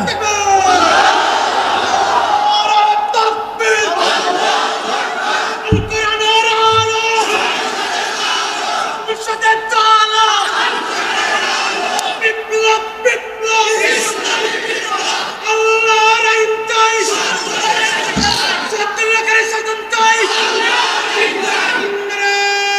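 A large crowd at an outdoor religious gathering chants the takbir in unison, loud, sustained repeated shouts, one massed voice roaring together in rhythmic waves across the grounds.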